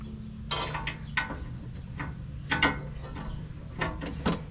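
Electric ratchet driving screws into a Ford Bronco panel, a set of short, sharp mechanical bursts with clicking, whirring pulses and quiet pauses between them, fairly faint and close in a workshop.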